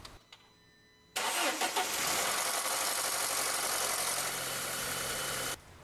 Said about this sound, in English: Next, we're going to start the engine